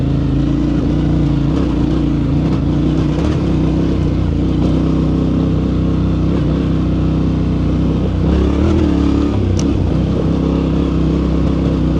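A 2025 Yamaha Tenere 700 Rally motorcycle rides an off-road trail, its engine droning loud and steady with slight rises and dips in pitch, mixed with wind rush and the rumble of the ground.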